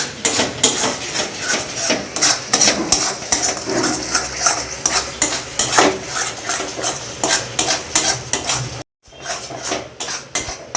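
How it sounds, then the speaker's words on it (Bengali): Spice paste frying and being stirred in a pan over low flame for a stuffed pointed gourd (patal) dish, with steady sizzling under repeated scraping and clattering strokes of a spoon against the pan, close and fairly loud, briefly dropping out near the end. "এবার এই পেস্টটাকে ভেজে দিচ্ছি। এটা সম্পূর্ণ নাড়াচাড়ার মধ্যে রাখতে হবে।"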